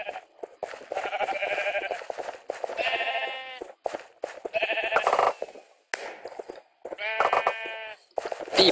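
Sheep in a video game bleat repeatedly, several loud, wavering bleats in quick succession with brief gaps and sharp clicks between them.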